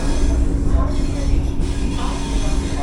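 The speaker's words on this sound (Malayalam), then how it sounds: "നമ്മൾ ജസ്റ്റ് പോയിൻറ്റ്സ് കടക്കുന്നു." A Vande Bharat Express rolls over railway points on the Coimbatore to Bengaluru Cantonment route, giving a continuous loud rumble and rattle heard from inside the carriage, with no distinct clicks standing out.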